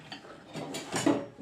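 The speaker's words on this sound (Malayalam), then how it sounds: "ഗ്യാസ് കത്തിച്ചു" A gas stove on a desktop cooking setup is lit during home cooking, giving a short burst of faint clicking and ticking near the end, close by and quiet.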